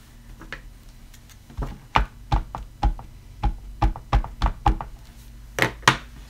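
Rubber stamp pressed onto paper on a Tim Holtz stamping platform: a series of firm, dull thunks and taps in an uneven rhythm, close and fairly loud, with no voice over them.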